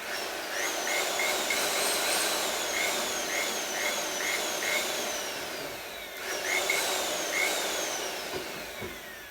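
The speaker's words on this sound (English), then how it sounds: "I'm stopping and starting the drill" A power drill fitted with a mixing paddle whirs steadily for mixing plaster, its whining motor rising and falling as it stops and starts, churning against a hissy background.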